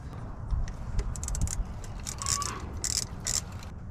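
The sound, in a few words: ratchet tightening bolts on zero turn mower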